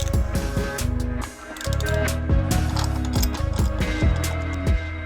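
A wrench ratchets on the spark plug of a Suzuki Bandit 600 motorcycle, close and loud, with rapid repeated metallic clicks in several bursts and short pauses between strokes.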